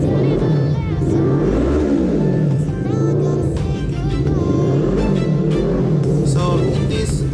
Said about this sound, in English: this is my bike Kawasaki Z300. Let's check out the sound.